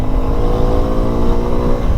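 Engine of a Suzuki V-Strom SX 250 motorcycle revving steadily and loudly up close, a continuous droning roar with slight surges over two seconds and no talk.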